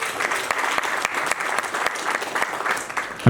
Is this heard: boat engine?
no